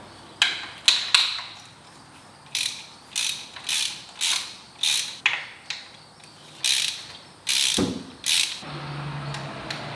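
A hand ratchet clicks in short repeated bursts while loosening spark plugs on a Mazda Miata during a 30,000-mile service, each few-second stroke a close, sharp rapid pawl chatter separated by brief pauses.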